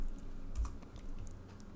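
A few quiet keystrokes on a computer keyboard, short soft clicks typed at a desk over a faint background hum, without speech.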